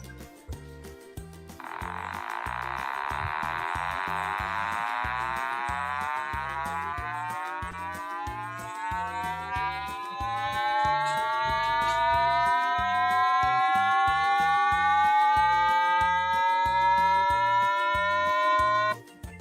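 A C program's sound function plays an electronic beeping tone that steps steadily upward in pitch, each tone rich in harmonics. The sweep runs for about seventeen seconds, then stops abruptly.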